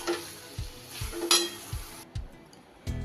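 A spoon stirs cabbage cooked with a rohu fish head, in festive Bengali ghonto style, in a pan: sizzling under a few scraping, clinking stirs, a sharp metallic knock near the end.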